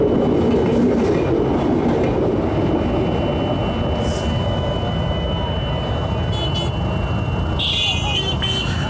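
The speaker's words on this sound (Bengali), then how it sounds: "আমাদের ট্রেন মামা চলে গেছে।" A train rolls past on a Dhaka line, a loud sustained rumble and rattle of wagons that fills the whole stretch, with a faint high whine and brief higher squeals near the end.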